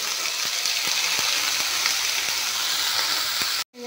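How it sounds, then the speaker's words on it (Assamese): Paneer pieces fry in hot oil in a pan with a loud, dense, continuous sizzle and faint regular ticks, cutting off abruptly near the end. "এতিয়া পনীৰখিনি অলপমান ভাজি ল'ম।"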